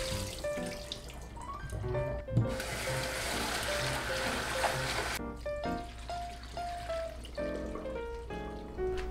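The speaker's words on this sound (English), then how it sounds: "please drain the water" Water drains from soaked shredded cabbage in a kitchen sink, a steady faint running and trickling wash under soft background music, with no talk.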